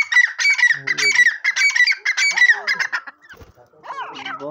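Calls from a pair of village pheasants kept as domestic birds, a run of loud, rhythmic squawking and honking phrases close by, pausing briefly before a softer call resumes.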